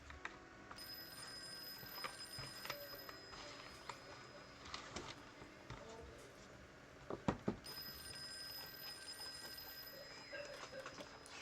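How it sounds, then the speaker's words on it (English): Faint telephone ringing late at night, a thin steady bell tone in two stretches separated by a gap, with a few soft knocks and clatters between. "Finally, the phone rang way late into the night."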